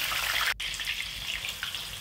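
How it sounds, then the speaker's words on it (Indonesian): Steady crackling and hissing of garlic-and-salt-seasoned tofu frying in hot oil over high heat, with a brief drop-out near the start, no voices. "kita goreng aja tahu yang sudah kita bumbuin dengan bawang putih dan garam tadi"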